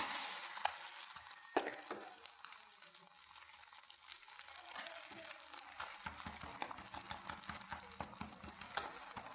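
Breakfast food is turned over and fried in oil in a pan, with a steady crackling sizzle broken by a few sharp taps and scrapes of the flip.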